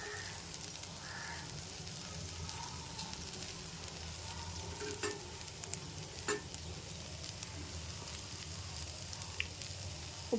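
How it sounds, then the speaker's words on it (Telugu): Okra fry with grated coconut sizzles softly in a pan while a spoon stirs it now and then, with faint scrapes and light clinks over a low, steady background hum and no speech. "ఒకసారి కలుపుకుందామండి"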